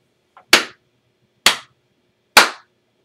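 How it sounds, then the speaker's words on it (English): A single sharp hand clap struck to sync separately recorded audio with video, ringing out near and loud, followed by two more identical crisp claps at roughly one-second intervals in an otherwise quiet room. "I'm going to start with a clap"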